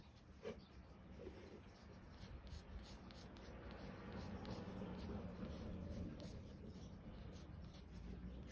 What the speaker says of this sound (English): Been a while since I've had pencil brush against paper.